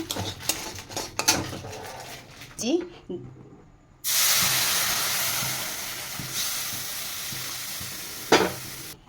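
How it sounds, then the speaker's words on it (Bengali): Semolina frying in ghee in a pan for rava modak: stirring clatter and scraping at first, then a loud, steady close sizzle that runs on with a brief knock near the end. "সুজিটাকে ভালো করে ফ্রাই করে নিচ্ছি ঘিতে আগে"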